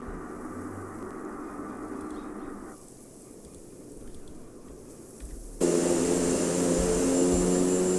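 An aircraft lands in remote bushland with a steady broadband engine roar that drops slightly, then jumps abruptly louder near the end. It is heard alone, with no talking.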